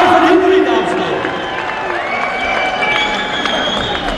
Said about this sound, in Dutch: Dames en heren, het is ook een applaus.